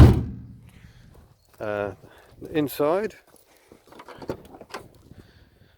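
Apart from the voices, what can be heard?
Citroen C15 van door shutting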